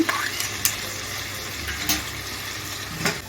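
A spatula stirs chilli paneer sautéing with green chillies, tomato sauce and dark soy sauce in a pan, giving a few scattered scraping strokes over a soft, steady sizzle.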